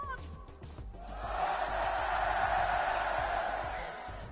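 A live event crowd yells and cheers when prompted to shout, the roar swelling and holding before easing off, with a host's voice over it.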